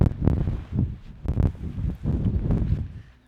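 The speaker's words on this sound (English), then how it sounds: "It's so windy." Strong gusts of wind buffet the microphone, rising and falling in loud rumbling bursts with a few sharp crackles.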